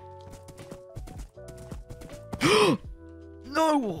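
A horse in the Minecraft video game clops and snorts amid low game sounds, with two loud whinny-like calls rising and falling; someone speaks briefly alongside.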